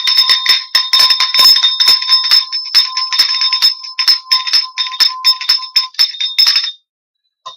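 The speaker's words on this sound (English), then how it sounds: "I'm going to ring the bell and it's going to get kind of loud" A small metal bell rung loudly and rapidly, producing a dense, bright ringing with irregular strikes for several seconds before stopping abruptly into silence.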